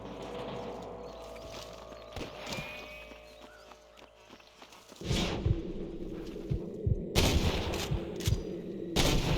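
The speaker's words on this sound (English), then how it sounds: "I can hear more gunshots." Gunfire in the Western video game Red Dead Redemption: sparse distant shots over horse hooves clip-clopping, then a louder burst of rapid gunshots and cracks in the later half.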